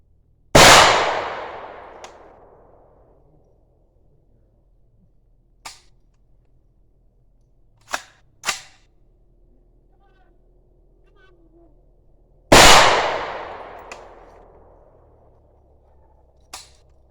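Two loud, sharp gunshots from a Wolf gun being tested with reloaded ammunition, fired outdoors about twelve seconds apart, each with a ringing decay, with faint clicks and handling noises in between.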